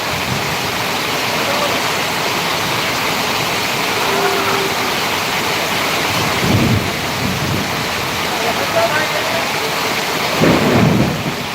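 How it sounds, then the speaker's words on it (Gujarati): Heavy rain pours down steadily while deep thunder rumbles roll in twice, loud and close, over the constant downpour. "વીજળીના કડાકા ફડાકા થઈ ગયા જબરજસ્ત"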